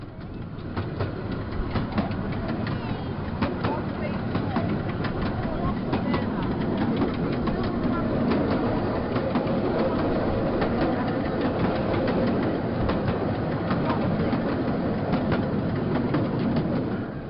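A Cleethorpes light railway train runs along the line with a steady rumble and rhythmic clickety-clack of wheels, loud and close throughout, while a voice talks over the noise.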